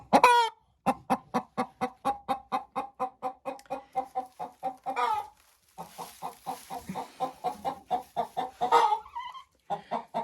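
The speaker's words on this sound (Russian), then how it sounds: "И куры продолжают дальше нести яйцо." Hens in a chicken coop cluck in a steady run of close, repeated calls, some rising into louder squawks, with no talking.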